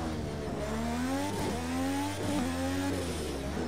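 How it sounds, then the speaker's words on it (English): V8 engine of an IMSA GTD race car on the Long Beach street circuit, heard from inside as it revs up through the gears with rising and falling pitch and short shifts, loud and continuous. "Love the fact that it still has a V8 in it."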